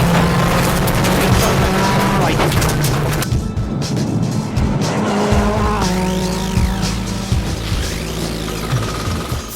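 A rally car drives flat out through a stage in near zero visibility at over 80 mph, its engine loud and continuous, with shifting revs, gear changes and tyre skids throughout, no talk.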